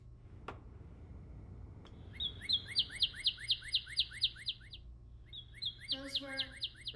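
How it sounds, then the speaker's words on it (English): Northern cardinals sing from a played recording: clear, rapid series of bright whistled chirps in two bursts, fairly faint over a low background hum, no talking. "Birds. Northern cardinals, specifically."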